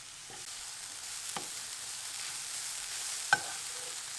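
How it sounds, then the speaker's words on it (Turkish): Carrots sauté quietly in oil in a pan, giving a soft, faint sizzle throughout. A few light scrapes and taps of a stirring utensil punctuate it, the clearest one near the end. "Ve ara ara karıştırarak yumuşayana kadar kavuruyorum."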